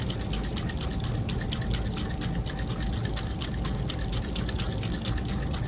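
A can of Loctite spray foam is shaken vigorously, a fast continuous rattle of the mixing ball knocking inside, loud and close with a steady rhythm for the whole stretch.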